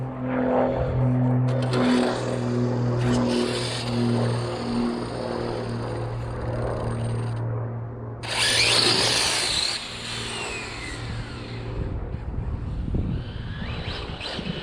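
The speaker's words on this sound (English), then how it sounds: "I'm just testing the wires and the motor because it's not an 8S motor. I'm gonna get one test hit in." An electric motor in an XTM XT2e RC car, wired for 8S, whines on a bench test run, a loud sustained high-pitched drone that rises in a burst partway through, then drops back and trails off.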